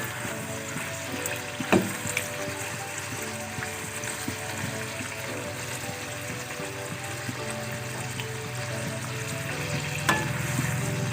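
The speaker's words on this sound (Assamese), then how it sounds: "অকণমান সময় ৰঙচুৱা হোৱালৈকে ভাজিব লাগিব।" Anarkali fry in a pan of oil until reddish, giving a steady, close sizzle that holds evenly throughout with a couple of faint clinks and no talking.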